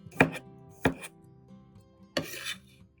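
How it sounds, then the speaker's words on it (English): A knife slices garlic into thin, uniform slices on a board: three crisp, close cuts spaced about a second apart, with a faint scrape after the last, and no voices. "slice the garlic into thin, not too thick slices"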